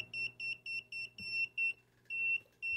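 A clamp meter beeps near a live wire in quick, evenly spaced high-pitched pulses, about eight in a row, then a longer steady tone and another beep.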